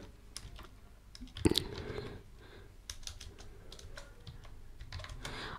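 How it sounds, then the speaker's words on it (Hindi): Keys clatter on a computer keyboard in quick, uneven bursts of close taps, with a louder thump partway through, while text is typed into a Word table. No one speaks. "देखिए यहाँ पर मैं टाइप कर देता हूँ टेबल"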